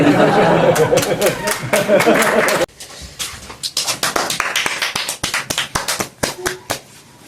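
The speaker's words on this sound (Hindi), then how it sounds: "आप लोग ने ताली बजाई थी सच में?" A stand-up comedy audience gives scattered, uneven claps, a few hands at a time, with a sharp burst and then a thin run of separate slaps. Talk and crowd noise fill the opening seconds before the applause.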